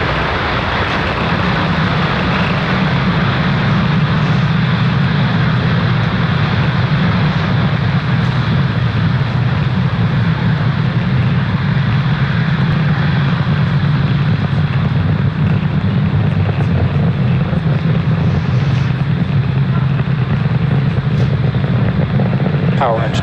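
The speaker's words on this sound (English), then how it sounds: "Falcon 9 has successfully lifted off from pad" A SpaceX Falcon 9 rocket lifts off from SLC-40 at Cape Canaveral carrying the Inmarsat I-6 F2 satellite, its engines producing a loud, steady, broadband roar that rumbles without pause for over twenty seconds.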